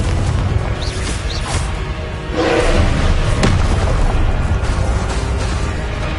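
A loud blasting-spell explosion in the game Hogwarts Legacy, a heavy boom rising out of constant battle noise and holding as a thick rumble.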